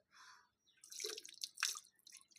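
Water drips and splashes during a ritual wash of the right hand, a few separate wet patters and trickles close by, with short quiet gaps between them.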